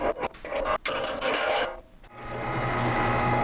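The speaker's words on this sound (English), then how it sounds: "Just letting the grinder take what it will, not pushing it through with the plunger" A meat grinder working meat for Calabrese salami churns with a harsh grinding rasp, choppy at first and then settling into a steady continuous whir, loud and close.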